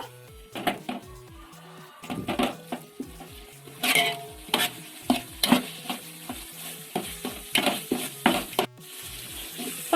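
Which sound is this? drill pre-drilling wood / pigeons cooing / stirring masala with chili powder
stirring masala with chili powder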